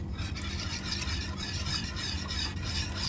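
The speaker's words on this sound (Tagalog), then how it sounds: "I-stir muna natin yung mahalaya para mag-scattered." Ube halaya with corn kernels stirred in a pan, a close, continuous scraping and rubbing of a utensil through thick paste in steady repeated strokes, with no talking.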